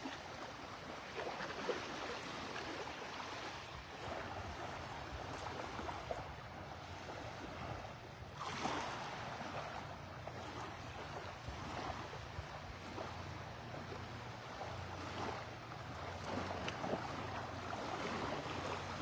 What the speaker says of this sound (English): The sound of the little waves rippling on the shore.